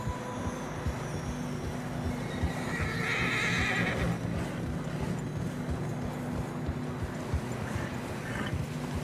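In Red Dead Redemption 2, a horse whinnies over a steady bed of hoofbeats and low rumbling ambience in fresh snow, the clip-clop continuing evenly throughout.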